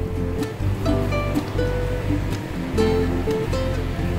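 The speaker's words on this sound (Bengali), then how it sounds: "জলটা ছেঁকে নিলাম" Water from soaked fennel seeds strained off through a strainer, a close, continuous splashing and trickling pour lasting a few seconds, with no talk.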